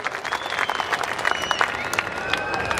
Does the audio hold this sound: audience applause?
yes